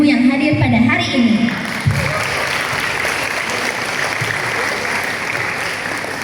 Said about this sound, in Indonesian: mari kita berikan tepuk tangan yang paling meriah untuk seluruh orang tua dan guru yang hadir pada hari ini